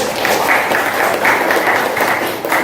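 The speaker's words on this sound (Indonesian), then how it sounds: "tepuk tangan lagi" Classroom applause from a group of students, a steady dense patter of clapping that holds for a few seconds, fairly close and even in level, with faint voices mixed in.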